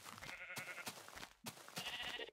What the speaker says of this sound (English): These villagers don't sound very friendly